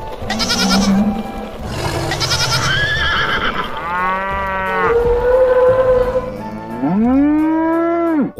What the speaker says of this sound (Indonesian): Gak mau diangkut sapinya.